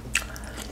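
Someone bites into cooked shrimp at a seafood boil with snow and Dungeness crab legs. A single close, crisp bite is followed by soft, wet chewing over a quiet background.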